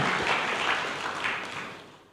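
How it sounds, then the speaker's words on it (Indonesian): A church congregation applauding during a sermon, a dense burst of clapping from many hands in a large room that swells briefly and then starts to fade. "Berikan tepuk tangan yang meriah buat Tuhan."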